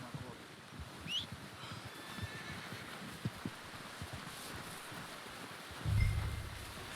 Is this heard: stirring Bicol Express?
no